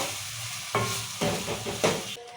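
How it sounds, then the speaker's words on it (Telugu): Ginger garlic paste frying in a pan for mutton curry, a loud close sizzle broken by three or four scraping stirs, with no voices. "అల్లమెల్లిగడ్డ కూడా మంచిగా ఇట్లా కలుపుకోవాలి"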